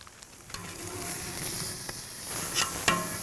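Shrimp sizzle on the flat top of a fireside grill, a steady close frying hiss with a few sharp pops and crackles toward the end, no voices over it.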